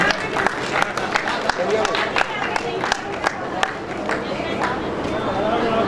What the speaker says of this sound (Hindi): एक बार जोर दो तालियां ऐप लॉन्चिंग पर